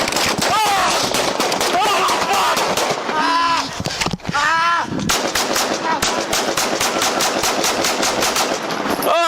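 Rapid bursts of gunfire crack loudly during a police shooting captured on a bodycam, dense repeated shots in volleys throughout, with people shouting between and over them.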